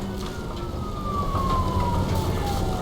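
A police car siren sounds in the video game Nobody Wants To Die, a single long falling wail sliding downward over a constant low rumble, fairly loud.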